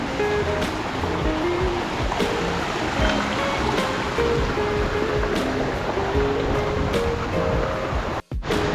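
A river running high and fast after rain in the provinces gives a steady, full rush of water that fills the whole scene, close and even throughout with no voices.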